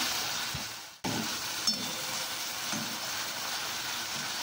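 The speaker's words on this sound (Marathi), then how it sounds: "टॅमॅटो आणि लसूण व कोथिंबीर इकडून त्यात टाकून तळून घ्यायची" Steady frying sizzle of tomato, garlic and coriander in a pan, continuous and fairly close, with a brief cut near the start and occasional soft stirring scrapes.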